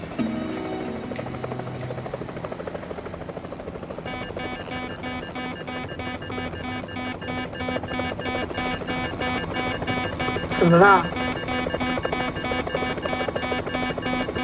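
A helicopter in flight, its rotor and engine making a continuous close drone with a tonal whine throughout, and a brief spoken exclamation partway through.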